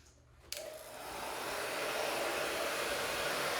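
An industrial heat gun on high heat blows a steady, loud rush of air while being used to soften adhesive on car wash decals, swelling up after a short click and then holding a constant roar.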